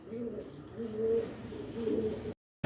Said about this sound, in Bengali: এখানে 2 পিস রেসার কবুতর আছে